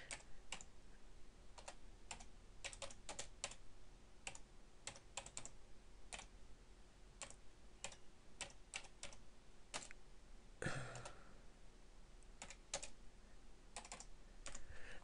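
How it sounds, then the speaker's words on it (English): Lettering is typed on a computer keyboard for embroidery software, heard as quiet, scattered keystrokes in short irregular runs, with one louder clatter partway through, over a faint room hum. "I'm just going to type in the lettering that should be on the arc"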